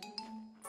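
A cartoon doorbell gives a short two-tone chime, a bright ring followed by a second note, brief and clear with no talk over it.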